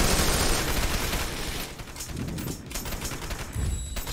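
Dense bursts of gunfire in a Hong Kong firefight from the video game Wanted: Dead, loud rapid volleys continuing throughout with brief dips in between.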